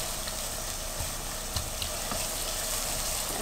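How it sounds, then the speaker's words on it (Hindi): Ginger garlic paste frying in a pan for a Spanish-style omelette, giving a steady, close hiss of sizzling oil with a few soft clicks and stirring scrapes throughout. "अब इसमें जिंजर गार्लिक पेस्ट डाल दें और 1 मिनट के लिए फ्राई करें।"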